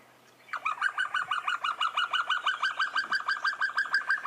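A bird calls in a fast, steady run of repeated ringing notes, about five per second, clear and fairly close with no talking.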